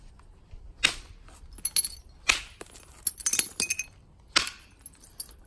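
Flint being knapped into an axe with a lighter hammer that has a more organised striking face: three loud, sharp cracking strikes spaced apart, with smaller clicking taps between them, close up and without talk.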